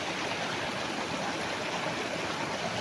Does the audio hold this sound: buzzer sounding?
no